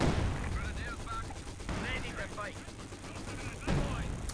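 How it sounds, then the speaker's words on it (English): An artillery barrage in the Company of Heroes strategy game, with a few muffled distant booms and crackling impacts under an excited commentator's continuous talk. "This is Barrage coming in the victory point, but missing the Grenadiers."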